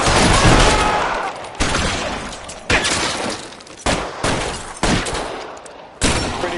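Gunfire in a shootout in the L.A. Noire video game: loud, sharp reports crack out at uneven intervals, starting with a heavy opening blast and followed by several distinct single shots that ring and decay.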